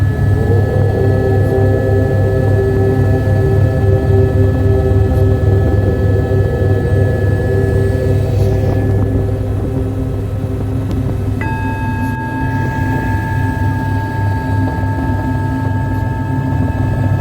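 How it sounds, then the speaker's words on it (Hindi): A helicopter descending to land on the Amarnath Yatra route from Pahalgam drones steadily and loudly throughout, its rotor hum and whine shifting slightly in pitch as it changes height. "अभी देखिए ये लैंडिंग का प्रोसेस में है, हेलीकॉप्टर नीचे जा रहा है।"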